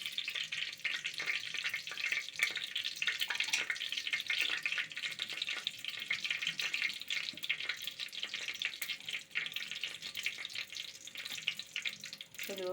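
Fenugreek seeds crackling and spluttering in a hot pan of coconut oil, a soft continuous fizz with small pops throughout, fairly quiet and close; no talking.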